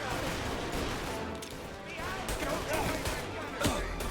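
Gunfire in the Mafia video game, a run of rapid shots under a continuous crackling bed while a player talks over the action.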